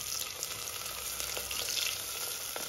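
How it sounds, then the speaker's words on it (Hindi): Onions fry in hot oil with a bay leaf for a Lucknow-style mutton bhuna masala, producing a dense, steady sizzle with faint stirring clicks, close and unbroken. "प्याज को हम यहाँ पर कंटिन्यू चलाते हुए फ्राई करेंगे"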